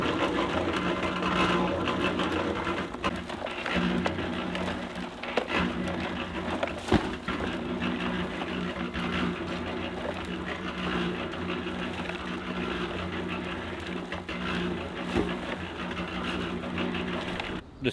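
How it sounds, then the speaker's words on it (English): A Harbor Freight cement mixer, set up for compost, runs with a steady, loud mechanical drone and a rattling churn that holds for the whole stretch, without a break. "The setup is a cement mixer I got from Harbor Freight."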